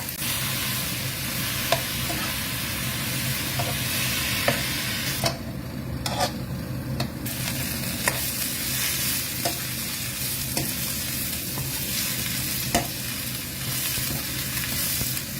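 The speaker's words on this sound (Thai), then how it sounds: "ผัดกระลำค่ะ" Cabbage stir-fried in a pan gives a constant loud sizzle, broken by regular spatula scrapes and taps against the metal all the way through, with no talking.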